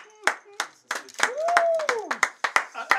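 Scattered clapping from a small group after a magic trick turning a banknote into another, several uneven sharp claps, with a voice talking in a rising, falling tone partway through.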